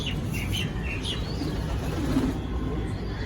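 Pigeons handled by a seller at a pigeon market, with soft cooing, chirps and wing flutters over a dense, steady crowd-like background noise.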